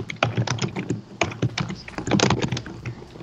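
Someone types rapidly on a computer keyboard during a Minecraft war game. Close, crisp keystrokes clatter in uneven bursts with brief pauses between flurries.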